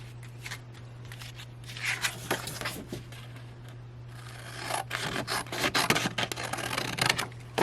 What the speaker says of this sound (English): cut this cardstock